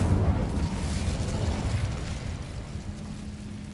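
Incendio fire spell in a Hogwarts video game: a steady, roaring burst of flame noise with a rumbling low end that sustains and slowly thins out, followed by a faint tonal hum near the end, without speech.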